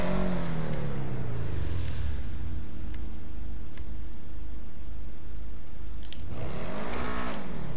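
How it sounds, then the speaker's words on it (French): A GTA 5 Online car with side competition exhaust revs loudly, a deep engine roar dropping away then surging again near the end, with faint ticks between. "Échappement, latéraux, compétition. Oh ouais, ça pète ça."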